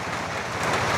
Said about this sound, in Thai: ฝนตกเดียว ฝนตกพี่น้องเอ้ย